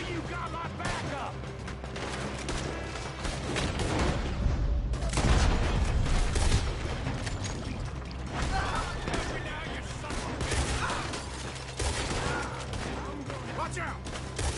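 Shootout in the western game Red Dead Redemption 2, with repeated gunshots and heavy booms, including a big blast mid-way, over shouting voices and a constant background din.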